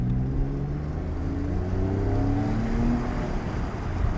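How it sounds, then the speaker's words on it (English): Porsche 911 997 Gen 2 Carrera 4S with dual-clutch gearbox accelerating, its engine note rising steadily as revs climb, heard continuously from inside the car at a moderate level over road rumble. "that sweet Porsche sound. It just holds you back, isn't it, the minute you press that accelerator"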